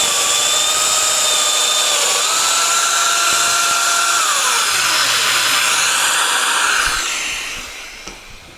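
A Festool Domino XL DF 700 joiner runs loud and steady with a high whining motor as it cuts a mortise, the pitch dropping and shifting mid-cut before the tool winds down near the end.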